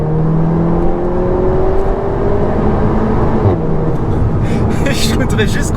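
A Seat Ateca launching hard on launch control, its engine revving up through the gears with rising whine and a steady loud drone, shifting around the midpoint, with people talking inside the cabin over it.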